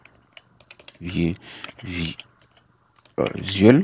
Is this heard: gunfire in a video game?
no